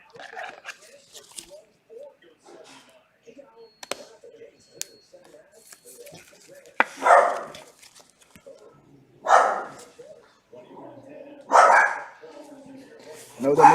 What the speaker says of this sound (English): You know what that means when the dog's barking.